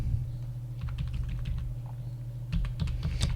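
Steady bursts of typing on a computer keyboard while entering an accounting narration, close and clear, with a brief pause midway and a quicker flurry of keystrokes toward the end; nobody speaks.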